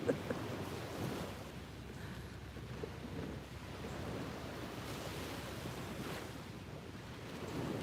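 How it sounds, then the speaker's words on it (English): Soft, steady rumble of ocean waves washing on a beach, distant and low, with some wind noise; no one speaks. "Can you still hear the waves though? They're quiet, but they're still there."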